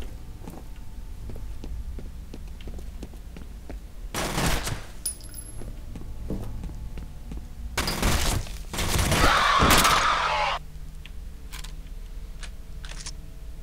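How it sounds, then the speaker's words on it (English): An RFL submachine gun fires in the shooter game F.E.A.R., with two loud bursts of rapid shots, the second longer and harsher, set against quiet, scattered clicks and game noise. "RFL submachine gun"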